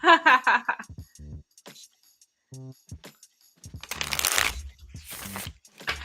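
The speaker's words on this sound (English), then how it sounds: "Let me get this deck all warmed up. It shuffles so well." A foil-edged tarot deck is shuffled up close in several riffling bursts, with quiet gaps and some talk at the start.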